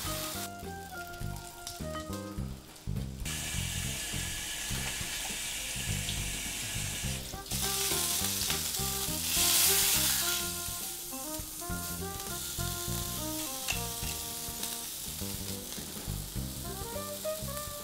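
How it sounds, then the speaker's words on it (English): A filet mignon seasoned with pepper, paprika, granulated garlic and salt sears in a hot pan, giving a loud, steady frying hiss that runs throughout over background music, with no talking. "I'm just gonna pan sear it, keep it on 2 minutes on one side, keep it on 2 minutes on the other."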